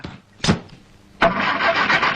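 A car engine cranks and catches, a short burst followed by a steady running rumble close by; a brief earlier thump precedes it.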